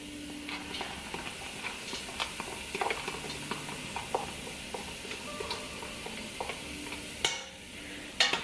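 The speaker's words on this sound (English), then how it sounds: "We're gonna mix that up real good. And we're gonna let it saute." Chopped celery and carrots sauté in a pan with a soft, steady sizzle, broken by scattered clicks and taps of stirring, and ending in a couple of sharper scrapes.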